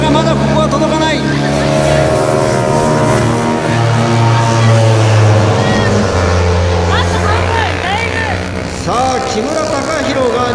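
250cc sport bikes such as the VTR250, CBR250RR, YZF-R25 and Ninja 250R racing at Tsukuba circuit, engines screaming loud and continuous with rising and falling revs as they pass, under constant excited race commentary.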